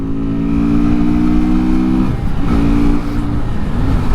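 An Archive Motorcycle AM Blackpearl 125 custom motorcycle riding along a road at about 80 km/h, its engine droning loud and close with a steady harmonic hum that dips and shifts midway as the revs change.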